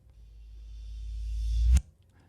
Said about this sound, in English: What I like to do is reverse the tom hit.